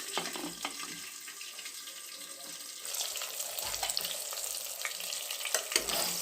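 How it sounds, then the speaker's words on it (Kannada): Stuffed brinjal (eggplant) frying in oil in a pan, a steady soft sizzle with faint scraping and stirring clatter, growing a little louder and denser partway through, with no talking. "ಇದನ್ನು ಒಂದು ಸ್ವಲ್ಪ ಹೊತ್ತು ಎಣ್ಣೆಯಲ್ಲಿ ಫ್ರೈ ಮಾಡ್ಕೊಳ್ಳೋಣ"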